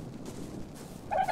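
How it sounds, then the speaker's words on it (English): A dodo in the video game Ark Survival Evolved lets out a short gobbling call near the end, after a second of quiet low ambient noise. "Dodo birds everywhere."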